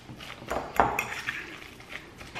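Metal utensil clinks and scrapes against a bowl while Parmesan is stirred into tuna salad, a few close bright taps and chinks with soft scraping in between, no talking.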